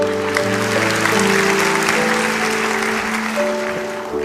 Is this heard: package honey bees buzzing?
no